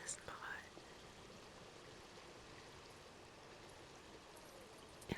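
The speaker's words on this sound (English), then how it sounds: "I didn't realize you could hear the waterfall better here" Steady waterfall ambience in the video game Stray, a continuous soft rushing wash like falling water or rain, with faint whispered or soft-spoken voice near the start and end.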